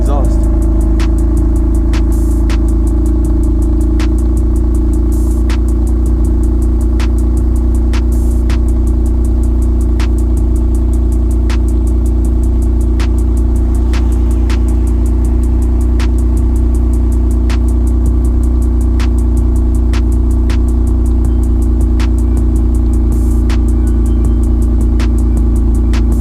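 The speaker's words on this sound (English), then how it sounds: "Gotta love a stock exhaust." A Toyota TRD engine with its stock exhaust runs at a steady idle, giving a continuous low rumble that stays even and fairly loud the whole time.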